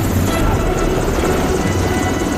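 A helicopter roars close and loud with a steady rotor chop that fills the scene, with a voice speaking over it.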